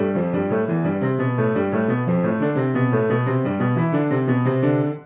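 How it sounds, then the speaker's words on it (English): Solo piano plays Hanon exercise number 3, a finger-strengthening drill: steady, evenly spaced patterned notes running continuously up the keyboard at moderate volume, close and clear, until an abrupt stop at the end. "Number 3 sounds like this."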